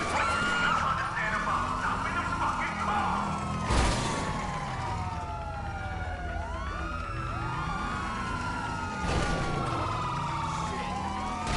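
Several police car sirens in a video game wail and sweep up and down continuously, overlapping and loud, with heavy engine and traffic rumble underneath and occasional sharp impacts.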